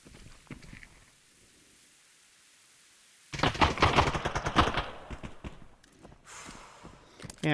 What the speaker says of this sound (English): he shot me with the G1 8C pistol